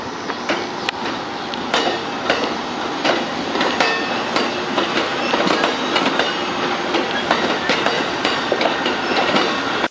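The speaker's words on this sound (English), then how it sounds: "Trains are kind of fascinating to film." A train riding the rails in Chicago, heard up close with steady rumbling and repeated clickety-clack wheel impacts over the joints, loud and continuous for the whole stretch with no talk.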